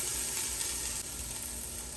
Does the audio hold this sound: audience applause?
no